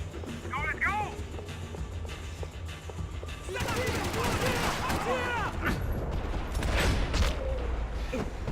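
Gunfire in a video game shootout, a few sharp bursts and scattered shots over a steady low rumble, heard mostly beneath raised, urgent voices talking throughout.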